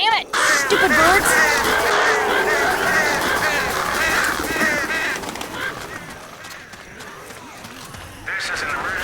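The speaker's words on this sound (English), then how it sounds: "Stupid birds!" Crows cawing in the video game Left 4 Dead 2, a loud dense flock of harsh calls that dominates at first and then thins out, mixed with game noise and talk.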